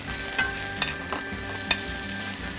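Sliced onions sauteing in a little oil in a pan, with a steady soft sizzle and a few brief stirring scrapes, close and alone with no talk.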